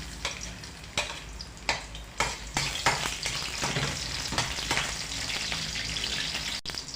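Garlic frying in cooking oil in a pan, a steady close sizzle with several sharp bursts and stirring scrapes in the first few seconds, then continuous crackling frying alone.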